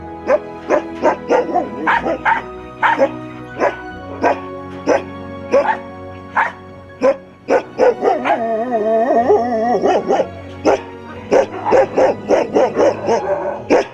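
A Rajapalayam dog barks repeatedly in loud, close bursts, with some drawn-out howling yelps in the middle, and a voice talking underneath.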